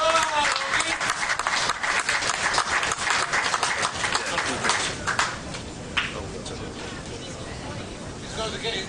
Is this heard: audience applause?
yes